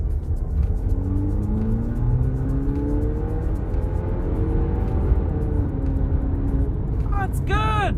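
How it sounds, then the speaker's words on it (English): Haval H6 GT SUV accelerating from inside the cabin, engine note climbing steadily through several rising sweeps over road rumble, with a voice talking briefly near the end. "one more acceleration"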